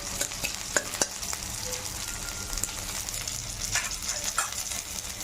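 Steady soft sizzle of bottle gourd leaf chutney frying in a pan, with a few light clicks and scrapes of stirring over the continuous hiss.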